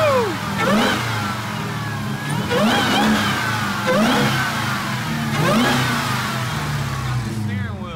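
A wrecked Dodge Hellcat's engine revs hard several times in a row, each rise and fall loud and close, with a rumbling idle between the bursts and voices nearby.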